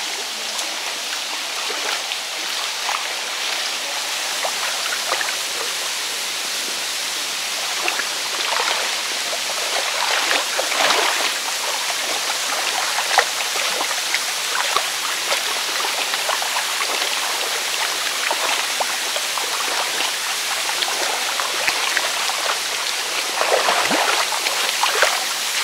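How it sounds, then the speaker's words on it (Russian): A waterfall and stream in Indonesian jungle pour with a continuous, loud, broadband rushing and splashing that stays steady throughout with no voices. "Легендарный водопад"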